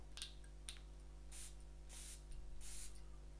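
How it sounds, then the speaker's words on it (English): Pressurised perfume atomizer on a Le Chameau Arabia Explorer bottle spritzed onto bare skin: several short, soft hissing puffs close up over a steady low background hum. "So let's give it a spray, shall we? Spray it onto skin"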